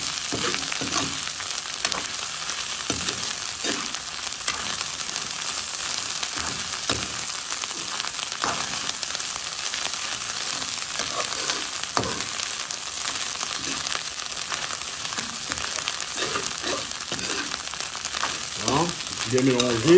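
Tomato being stirred into river fish rougail as it sizzles and fries steadily in the pan, with soft scraping stir strokes and faint crackles throughout, moderately quiet and continuous.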